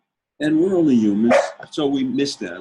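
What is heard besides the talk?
dog barking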